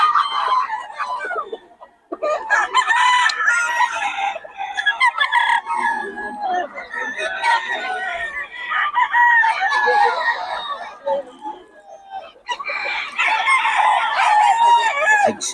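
Stag gamecocks at a rooster gathering in Bocaue crow repeatedly, several overlapping loud, near cock-a-doodle-doo calls in bursts with brief clucking between them.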